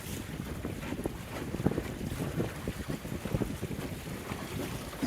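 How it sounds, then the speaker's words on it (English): Breeze blowing over a Welsford Navigator sailboat out on the bay, a faint, steady rush of wind buffeting the microphone with soft water sounds beneath, no voices. "nice little breeze coming off across the point from the big lake"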